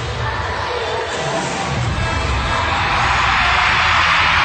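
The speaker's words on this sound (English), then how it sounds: "And there's the crowd." Hockey arena crowd at an Erie Otters vs Mississauga Steelheads school-day game, a loud sustained roar of cheering and shrieking young voices that grows louder toward the end.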